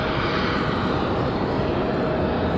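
A Southwest Boeing 737-700 arrives at Raleigh-Durham airport, its jet engines giving a steady, loud, broadband roar that holds evenly through the brief moment.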